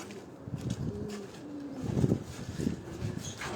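Pigeons cooing on a rooftop loft of Kabuli, high-flying, Gerebaz and Aseel breeds, soft repeated low coos close by with faint rustling and outdoor ambience.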